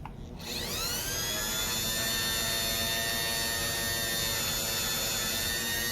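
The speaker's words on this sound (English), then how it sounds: "So we'll give this wire wheel a test." Hardell rotary tool spinning a wire wheel, a steady high-pitched motorized whine that rises in pitch as it spins up in the first half second, then holds loud and continuous with dense harmonic buzz to the end.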